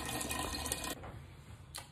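Tap water runs steadily into a pasta pot being filled for boiling, a broad close rush that cuts off suddenly partway through, followed by a short second burst.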